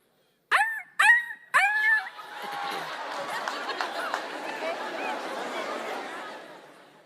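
A boy performs a dog imitation for a Kenyan talent showcase, giving three sharp, close barks in quick succession, followed by a crowd chattering and murmuring loudly in the background.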